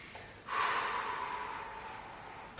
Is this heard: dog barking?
no